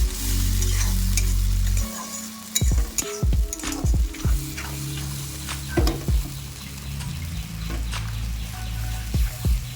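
Ginger garlic paste frying with onions in a pan for egg curry, a loud hiss at first, then sizzling broken by sharp stirring scrapes and clatters.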